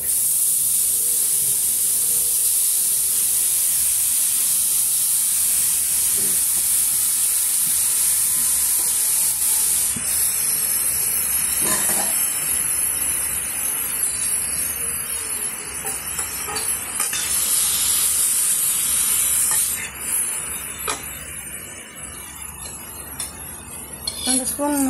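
About a quarter kilo of grated mixture fries in two spoons of ghee with a constant bright hiss, while scattered clicks and utensil taps come and go over it.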